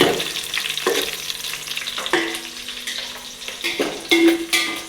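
Onions and green chillies fry in a pan for chicken biryani, a steady close sizzle broken by a few stirring scrapes and clinks of a spoon, with no talking.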